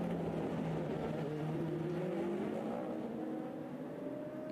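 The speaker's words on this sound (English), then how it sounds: "It's a Rebellion versus a Jackie Chan racing car." Two Oreca LMP2 prototypes, a Rebellion and a Jackie Chan entry, race at the 24 Hours of Le Mans, their engines roaring loudly with rising, shifting tones as they scream past together.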